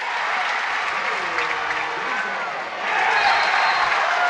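A high-school boys basketball crowd in a gym roars and applauds after a turnover and steal, a dense, steady wall of cheering and clapping that swells louder near the end.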